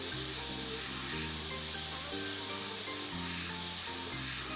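An Iwata HI Line HP-CH airbrush spraying paint gives a steady, loud, continuous hiss, with stepped background music running underneath throughout.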